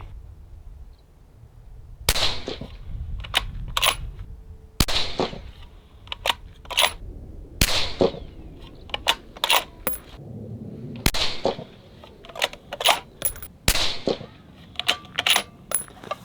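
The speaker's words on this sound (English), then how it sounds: "We'll pause there, load up 5 more rounds, send another group." Rifle shots fired in a group during long-range PRS-style shooting, about ten sharp, loud cracks coming at irregular intervals with brief gaps between them, and no voices.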